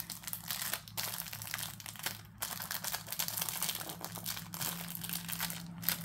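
Crinkly plastic packaging of a small diamond painting kit being handled and crumpled up close, a continuous crackling with brief pauses, no talking.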